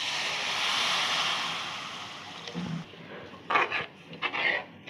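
Water is poured into a pan of curry gravy with softened onions and tomatoes, making a steady rushing hiss. A few clinks and knocks of the pan follow as the pouring stops.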